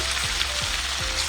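Meat simmering in a pot on the stove with pumpkin pieces, a steady close bubbling sizzle running throughout with faint soft thumps.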